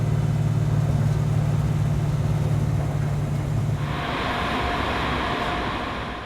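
A Mustang engine rumbles steadily while driving, a low droning hum at first that gives way to louder, hissy road and wind noise partway through.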